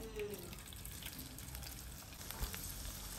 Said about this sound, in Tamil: வடகம் கொஞ்சம் பொரியட்டும்.